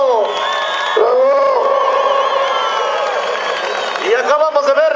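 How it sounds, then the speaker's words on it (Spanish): A crowd at a rural bull-riding event in Iratzio roars with sustained cheering, whoops and shouted voices, loud and dense throughout, swelling again near the end. "El aplauso. ¡Bravo!"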